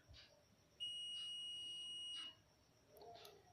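A multimeter's continuity buzzer beeps once as the red and black probe leads touch, a single steady high-pitched electronic tone lasting about a second and a half, faint and alone against quiet room noise.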